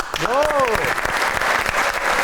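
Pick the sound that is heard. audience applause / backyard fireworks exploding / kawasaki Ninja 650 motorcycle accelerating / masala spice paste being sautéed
audience applause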